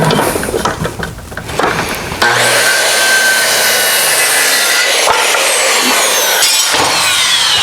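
A saw rips through wooden legs for a scrap-wood workbench, starting with a ragged, uneven cut and then settling into a loud, steady whining drone close by.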